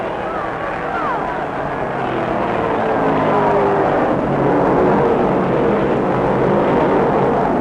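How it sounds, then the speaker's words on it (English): A field of NASCAR stock cars roars off at the start of the 1967 World 600 at Charlotte. The engines make a broad, continuous thunder that stays loud and steady, swelling slightly as the pack gets under way. "in an unending explosion of sound, the cars rocket under green silk"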